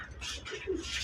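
Pigeons at a pigeon farm coo in a soft, continuous murmur, with several birds overlapping at close range and no voices.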